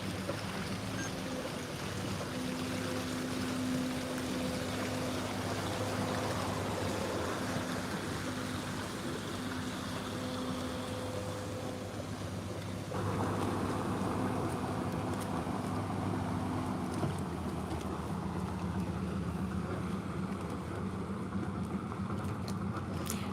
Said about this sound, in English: I like the sound of the boats.